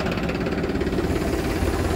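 Farmtrac 45 tractor engine idling, a steady, loud, close diesel rumble with a rapid knocking pulse and no voices over it.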